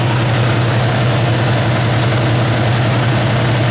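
A 1970 Buick Gran Sport engine idles with a loud, steady low rumble and an even, unbroken drone throughout, with nothing else heard over it.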